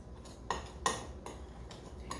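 BBQ rub for spare ribs stirred in a bowl, a few light clinks and scrapes of a utensil against the bowl at a slow, uneven pace over a soft room background.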